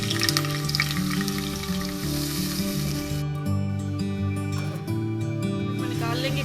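Onions frying in hot oil for Pakistani beef nihari, a soft continuous sizzle under a steady low hum, with some splashy, watery-sounding texture near the end.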